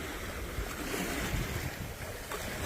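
Ocean swells of roughly three-foot rollers wash steadily around a sailboat under sail on indigo water off the Berry Islands, with a continuous rush of wind buffeting the microphone throughout.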